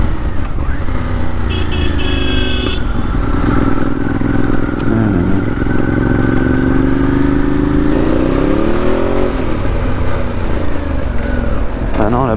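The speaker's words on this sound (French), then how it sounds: "c'est le mécano qui bosse à côté là, qui fait un test de la moto pour rouler sans gants" A mechanic test-rides a motorcycle nearby: its engine drones loudly and steadily for about twelve seconds, the pitch sliding up and down as it revs, with some faint clatter and brief beeps early on.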